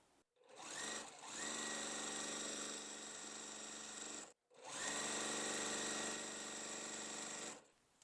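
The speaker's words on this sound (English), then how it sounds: "we're going to sew from top right here to bottom left" A sewing machine stitches a quilt block for a pressed-flower quilt pattern in two sustained runs of fast, even whirring, separated by a brief stop. The sound is close and fairly quiet, with no talking.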